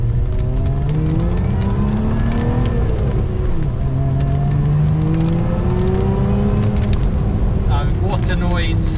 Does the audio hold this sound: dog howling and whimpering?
no